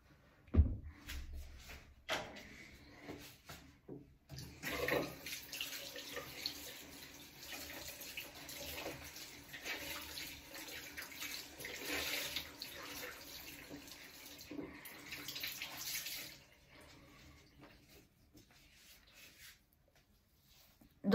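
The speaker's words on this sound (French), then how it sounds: "je vais me rincer le visage parce qu'après" A bathroom tap runs steadily while someone rinses their face, with splashing, a few knocks of a cupboard or sink fixtures, and quieter spells as the water stops and starts.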